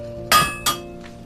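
A blacksmith's hammer strikes copper and iron twice, each blow a sharp, bright metallic clink with a ringing tail, followed by a fainter third tap, close by with no talking.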